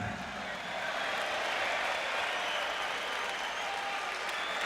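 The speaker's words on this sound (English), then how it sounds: "A big round of applause." A boxing arena crowd applauds a retiring referee before his final bout, a steady, broad wash of clapping heard at a distance, fairly faint and continuous throughout.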